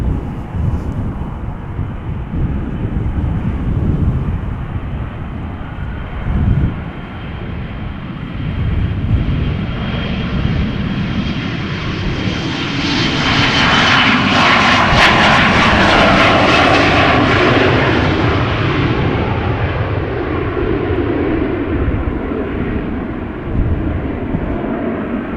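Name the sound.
KLM Embraer 175 jet departing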